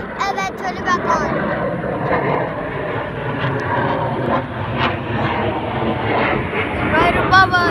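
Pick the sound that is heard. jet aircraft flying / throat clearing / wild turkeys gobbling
jet aircraft flying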